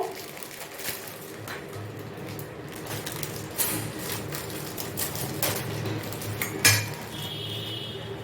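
A knife trims the crusts off a slice of bread in a home kitchen while making Bengali chicken kofta: soft repeated scraping and crunching strokes against a board, close up, with faint clinks of utensils.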